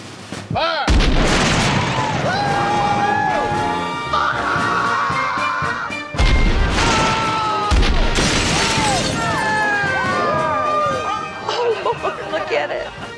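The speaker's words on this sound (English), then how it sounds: "They pointed all the cannons at the house." Heavy booming cannon blasts fired at a house go off one after another, each followed by rumbling and crashing debris, with shouting voices beneath the noise.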